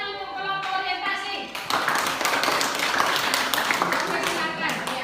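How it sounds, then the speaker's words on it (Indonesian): A group claps for an orientation team in a classroom or meeting, starting with sparse taps amid talking and then swelling into steady, fairly close applause that carries on to the end under occasional voices. "Tepuk tangan untuk kelompok orientasi."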